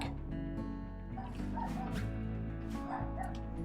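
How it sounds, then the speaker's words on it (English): A dog barks and yips several times in quick succession, fairly close, over a steady tonal background. "I can just hear dog barking"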